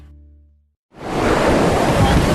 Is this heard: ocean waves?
yes